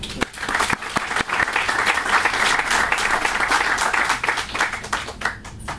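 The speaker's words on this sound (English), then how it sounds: "I think he deserves another round of applause" An audience at a civic announcement gives the mayor another round of applause, loud, dense clapping that holds steady for several seconds, with a few sharp close claps at the start and murmuring voices faintly underneath.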